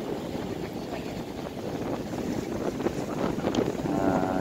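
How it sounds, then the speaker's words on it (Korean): Strong headwind buffets the bow deck of a three-level tour boat cruising the Thousand Islands where the St. Lawrence River meets Lake Ontario, a loud, steady rushing roar across the microphone. "배가 항해하면서 맞바람을 쐬면서 바람이 세차게 불고 있습니다"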